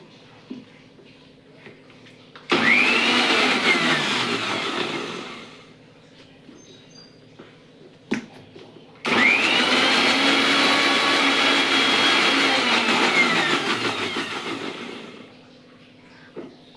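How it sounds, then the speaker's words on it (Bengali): A kitchen mixer grinder blends lassi in two loud bursts, each whirring up sharply, holding a steady roar for several seconds, then winding down, with a quiet pause between. "এবার আমরা এটা ভালো করে মিক্সিতে ব্লেন্ড করে নেব।"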